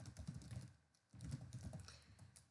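Computer keyboard typing while entering a code comment in VisualG: quiet, close rapid key clatter in two bursts separated by a brief pause, with no talking.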